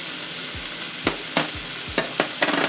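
Onions, garlic and grated ginger for pork fried rice hit a hot pan, with a soft sizzle under a few close scrapes and clacks of a spatula stirring them, no voices.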